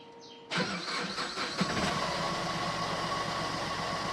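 A Chevrolet Beat diesel engine cranks and catches after a moment of quiet, following a fuel temperature sensor replacement, then settles into a steady, rumbling idle close by.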